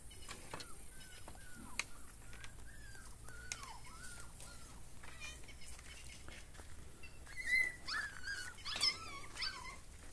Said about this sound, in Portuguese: O cachorro quer passar onde não cabe.